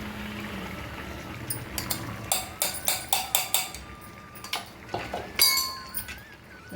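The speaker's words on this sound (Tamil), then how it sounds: "சவுண்டு கேட்கும் தான் நான் மரக்கண்ணியை யூஸ் பண்ணி வதக்கும் போது" A wooden spoon scrapes and knocks rhythmically against a pan while thick garlic kuzhambu is sautéed, giving a close series of sharp taps and clinks with a faint sizzle underneath.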